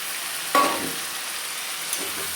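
Rohu fish dropped into hot oil in a pan, a sudden sizzle burst with a clink, then a faint continuous frying hiss and a small second stir.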